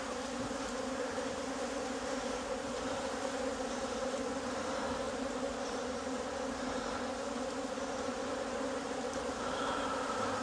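Honey bees buzz in a dense, continuous drone at an open hive in an apiary, steady and close, with no talking.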